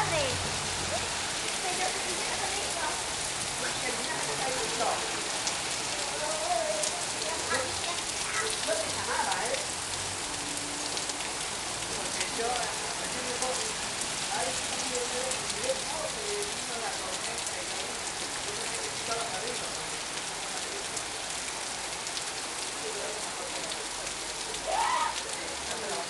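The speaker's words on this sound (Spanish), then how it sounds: "Me da miedo porque los granizos entraron acá." Heavy rain with hail pelting surfaces, a continuous dense patter with scattered sharper impacts throughout, while people talk intermittently over the downpour.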